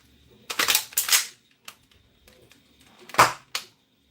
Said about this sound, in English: let's keep it like this and see if it fires